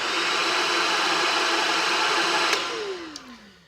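A Shark Rocket vacuum cleaner runs at low speed for bare floors and area rugs, a steady close whirring drone that winds down toward the end with a falling pitch.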